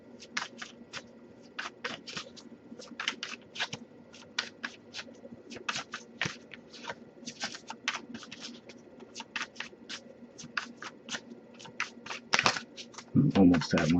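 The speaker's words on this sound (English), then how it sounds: "if we shuffle for a while without anything coming up" Steady riffling and snapping of tarot cards being shuffled, a continuous papery patter of quick flicks, close by, with a brief louder burst near the end.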